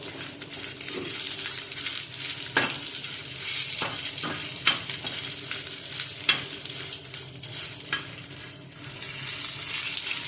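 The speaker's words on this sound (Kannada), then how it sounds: "ಮೆಣಸು ಮಾಡಿ ಫ್ರೈ ಮಾಡ್ತಿದ್ದೀನಿ." Spicy and long chillies sizzle steadily in a pan during Udupi-style fish pulimunchi cooking, a continuous close frying hiss broken by several sharp clicks of stirring against the pan.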